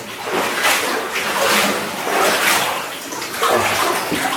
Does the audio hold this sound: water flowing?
yes